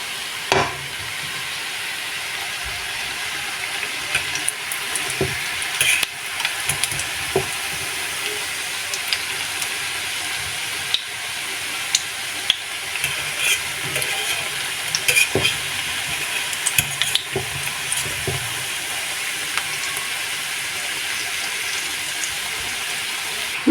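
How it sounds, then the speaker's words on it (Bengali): Moong puli pitha frying in oil in a pan, giving a steady, close sizzle throughout, broken by occasional scrapes and clinks from stirring and turning. "বাকি পিঠাগুলো আমি দিয়ে দিয়েছি, এখন আমি এগুলোকেও ভেজে নেব"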